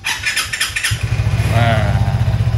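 A motorcycle engine cranks a few times, catches, then settles into a loud, steady idle close by, warming up at home.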